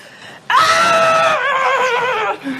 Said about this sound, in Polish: Możesz teraz pokazać, że możesz krzyczeć, jesteś bardzo zła.